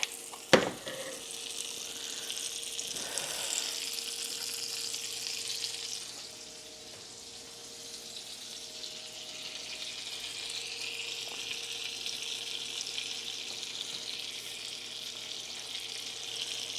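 French toast fries in butter in a pan, a steady close sizzle with a sharp clack near the start and a softer dip midway before the hiss picks up again.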